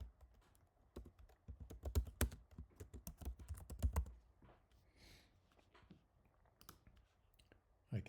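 Fingers type on a computer keyboard in quick, close bursts of clicky keystrokes. The typing is loudest early on, then thins to sparse taps with quiet pauses, and a faint voice can be heard at times.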